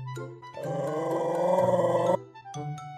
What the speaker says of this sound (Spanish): Oye, Roberto, no le ladres a Juan.